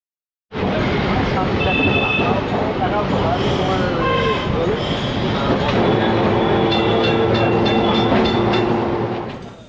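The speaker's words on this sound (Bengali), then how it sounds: "এইভাবেই ঢং ঢং শব্দে ধীর গতিতে গড়িয়ে চলল ঐতিহাসিক ট্রাম" A historic electric tram in Kolkata rolls slowly along its rails, with a continuous loud rumble, squealing wheels and bright metallic bell-like tones, while people talk aboard.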